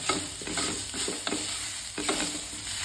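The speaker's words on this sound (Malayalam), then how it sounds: "വറുത്തെടുക്കണം" Steady sizzling from a hot pan as coconut fries, with a spoon scraping and stirring through it at a quick, irregular pace, close by and with no voices.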